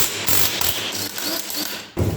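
An impact or ratchet tool spins off the flywheel nut of a 224 small engine, sounding as a loud close buzzing rattle, briefly broken, then a final burst.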